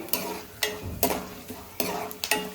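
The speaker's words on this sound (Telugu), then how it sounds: "ఇప్పుడైతే నేను ఇందులో వేరుశనగుళ్ళును పచ్చనపప్పు సాయిపప్పు జీలకర్ర ఆవాలు వేసాను ఇవైతే వేగుతున్నాయి" Peanuts, dals, cumin and mustard seeds fry in hot oil in a pan for mango pulihora, a spoon stirring and scraping in repeated strokes over a steady sizzle, close and clear, with no voices.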